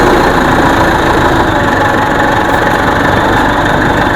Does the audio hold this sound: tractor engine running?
yes